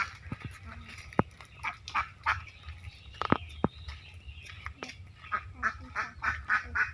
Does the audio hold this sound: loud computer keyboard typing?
no